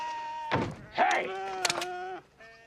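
Frightened ewes on a farm bleat in a movie scene, a few wavering, close bleats rising over a dull thump and scattered knocks.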